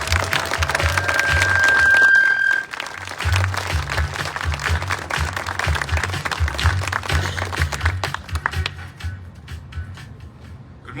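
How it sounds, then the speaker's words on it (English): An audience at a school ribbon-cutting ceremony in Aurora, Illinois, applauds to welcome the mayor: dense, sustained clapping from a crowd that thins slightly and tapers off toward the end, with a brief tone sounding early on. "let's keep that round of applause going"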